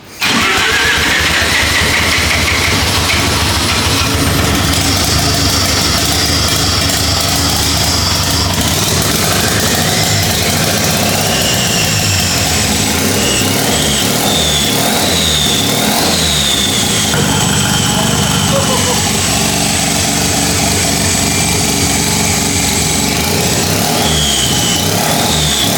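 A 13B turbo rotary engine in a replica Lamborghini build cranks over and catches, then settles into a steady, busy idle with whining and rattling mechanical tones, loud and close throughout.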